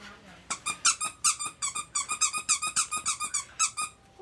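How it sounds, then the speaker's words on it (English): A toy pet gives a rapid run of high, bright squeaks, close and loud, repeating in quick bursts for several seconds without talk. "Is there something wrong with your pet? He keeps squeaking."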